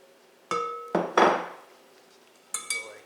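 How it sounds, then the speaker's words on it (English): Softened butter for a butter Bundt cake is knocked off a spatula into a mixing bowl: a few sharp, close clanks and scrapes of utensil against the bowl, with quiet pauses between them. "So in goes the softened butter."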